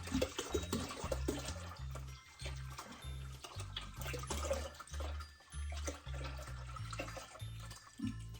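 Pyment, a honey and grape wine, poured during a home brew day: liquid splashes and gurgles in uneven bursts, then settles into a quieter steady flow, faint and close by.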